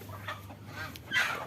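Chickens cluck on a Muscovy duck farm, a few short nasal calls rising near the end, fairly close amid soft barnyard background.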